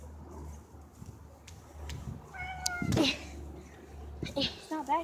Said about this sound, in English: Wait, we heard the cat.